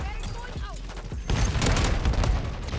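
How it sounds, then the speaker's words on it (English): A grenade going off on the Shipment map in Modern Warfare 3: a sudden loud blast, then a dense rumble and crackle of combat, with someone talking over the action. "Throwing grenade."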